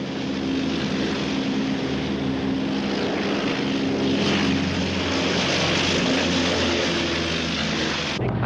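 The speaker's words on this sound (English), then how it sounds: "The unmistakable sound of the Tracker's two radial engines will always be nostalgically remembered by all that have flown the Stoof." A Grumman S-2 Tracker's twin radial piston engines drone in a loud, steady propeller roar that holds throughout and ends abruptly, with no voices.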